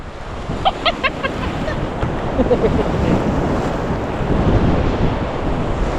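Sea waves breaking on a beach, a loud, continuous wash of surf with wind buffeting the microphone, while a few short voices call out briefly near the start.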